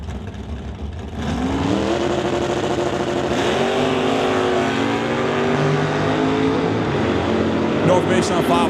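A Chevy 2 drag car launches and accelerates down the strip at an NHRA Summit ET Series race, engine note rising loud and close for several seconds after a quieter start, with a commentator talking over it.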